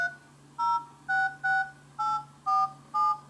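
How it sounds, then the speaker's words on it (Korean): Phone number dial tones on an LG Urbane LTE smartwatch sound as seven short, evenly spaced dual-pitched beeps, one per digit, clear and close over a faint steady hum. "제 전화번호 입력하고"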